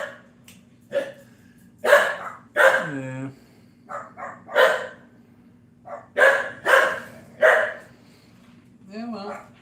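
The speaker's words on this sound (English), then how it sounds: "so there's gonna be some barking." Loud, close dog barks come in irregular bursts, with a brief spoken word among them.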